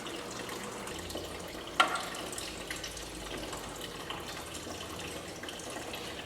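Old coolant draining from the radiator petcock of a 1967 Mustang, a faint, steady trickling flow of liquid with one brief clink partway through.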